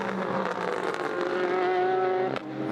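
Race cars roar on track at the 6 Hours of Spa-Francorchamps, a loud sustained engine scream with shifting pitch as cars pass close by, followed by a sharp transient near the end.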